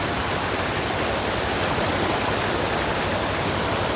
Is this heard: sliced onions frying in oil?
no